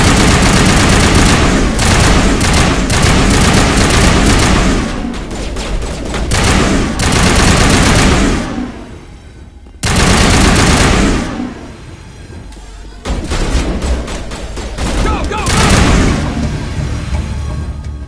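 Sustained automatic gunfire and explosive booms fill a close, loud firefight in Mass Effect, with rapid bursts pausing briefly and then resuming.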